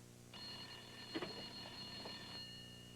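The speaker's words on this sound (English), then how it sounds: "Phone." A telephone rings steadily with a bright electronic trill for about two seconds, fairly faint in a quiet room, with no one talking.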